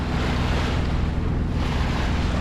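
Wind and sea surge steadily around a sailboat on open Atlantic ocean, between the Isles of Scilly and the Azores, with a constant rushing roar and low water wash and no voices.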